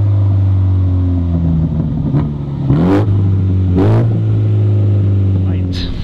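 A JCW Clubman fitted with a Remus race exhaust revs in sport mode, sharp loud blips rising and falling twice over a steady idle burble, close to the listener.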